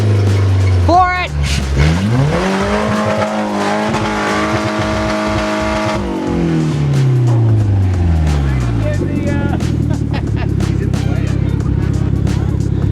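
A Toyota RAV4 engine revs hard during an off-road drive, rising and falling in pitch with a loud, close drone, while people talk over it.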